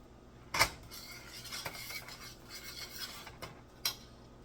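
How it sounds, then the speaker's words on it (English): Candied sweet potatoes get stirred in a pot over low heat, with a spoon clinking sharply against the side twice and soft scraping and rubbing between the clinks, close and fairly quiet. "Give that a good stir."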